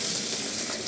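Bacon frying in a pan for spaghetti carbonara, a steady broadband sizzle with crackle running throughout the short stretch, close and fairly loud, with no voices over it.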